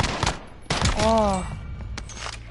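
Pistol gunfire rings out in a first-person video game as a few sharp, loud shots. A brief tonal sound falls between the bursts, and quieter game noise carries on underneath.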